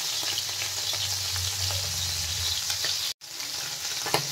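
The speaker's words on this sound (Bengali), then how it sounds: "দেখো তেলটা গরম হয়ে গেছে, এবার এই মাছগুলো ভেজে নেব।" Small tangra fish fry in hot oil, a loud, steady hiss and crackle heard close up, with a soft stirring rumble underneath and a brief dropout near the end.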